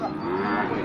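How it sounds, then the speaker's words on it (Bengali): A cow at a crowded cattle market lets out a single short, low moo, close and fairly loud, with market chatter murmuring underneath. "ভাইটা কি জাতের গরু?"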